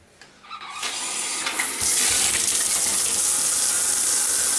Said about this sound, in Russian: Вот вода пошла у нас.